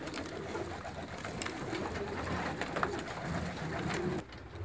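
Pigeons coo softly in a pigeon loft, low murmuring calls repeating over a faint background hum with occasional rustles.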